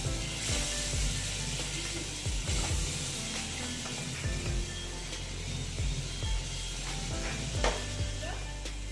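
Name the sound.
masala with potatoes being sautéed in a pan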